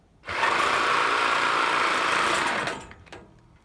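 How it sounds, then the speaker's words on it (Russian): A Procraft reciprocating saw with a metal-cutting blade starts up, runs at a steady high-pitched buzz for a couple of seconds, then winds down and stops as its plug pulls from the socket. "Сабельная. Сабельная. Полотно по металлу."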